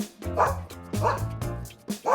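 A dog named Daisy barks and yips three times in quick succession, close and clear, with harmonic, slightly whiny barks.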